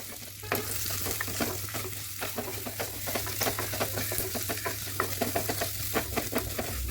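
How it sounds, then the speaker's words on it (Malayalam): Crushed shallots, ginger and garlic frying in a pan for Kerala-style rasam, giving a loud continuous sizzle broken by quick repeated scraping strokes of a spoon, close up throughout. "ഈ ചതച്ച് വെച്ചിട്ടുള്ള ചെറിയുള്ളി, ഇഞ്ചി, വെളുത്തുള്ളി ഇട്ട് കൊടുത്തിട്ടൊന്ന് മിക്സ് ചെയ്ത് കൊടുക്കാം"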